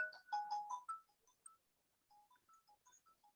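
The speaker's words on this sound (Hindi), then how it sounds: "एक मिनट बेटा, फोन आ रहे हैं।" A mobile phone rings for an incoming call during a maths lesson, a faint electronic melody of short tones, a dense cluster first and then sparser notes, with no voices.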